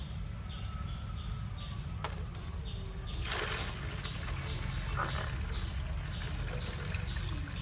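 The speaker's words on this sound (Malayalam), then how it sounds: "നമുക്ക് ഇനി ലേശം കൂടി വെള്ളം ഒഴിക്കാം അതിലേക്ക്." Water is poured into a small home fish tank with gravel, a soft steady trickle and splash against a faint background hum, with brief stronger gushes midway.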